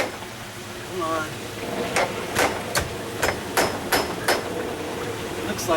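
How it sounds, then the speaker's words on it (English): A hammer handle taps on the top hinge pin of a sagging exterior swinging back door: about seven sharp, close metallic knocks in an uneven rhythm, following a brief quiet lead-in. "I can hit this one, my hammer handle, tap, tap, tap on the top one."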